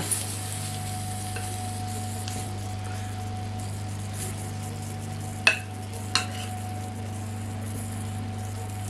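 Cabbage and vegetables stirred in a pan beside guinea fowl, a low, even sizzle under a steady hum, marked by two sharp clacks of a utensil against the pan, with no voices.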